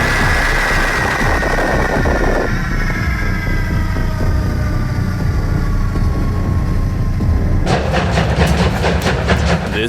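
A steam train lets off a loud, continuous roaring hiss of steam that fills the scene, joined near the end by a rapid series of rhythmic chuffing or clanking pulses.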